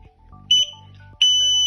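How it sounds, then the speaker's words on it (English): Alarm set off by a homemade spy circuit, a shrill electronic beep that sounds once briefly, then returns as a sustained piercing tone, preceded by low electronic hum. "We set off the alarm!"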